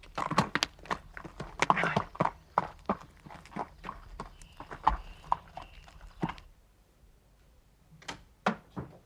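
Horse led into its stable box, hooves clip-clopping in an irregular walking rhythm on a hard floor, close and fairly loud, then a pause and a few final steps.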